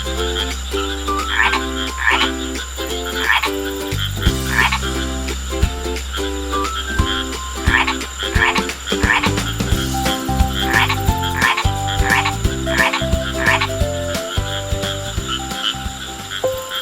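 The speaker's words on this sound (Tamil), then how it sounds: "ஒரு குறும்பு தவளை மட்டும் கேட்கவில்லை. அது உரக்க கத்தத் தொடங்கியது." A cartoon frog croaks loudly and repeatedly in a steady, insistent rhythm over backing music, the calls sitting close and prominent with no talk.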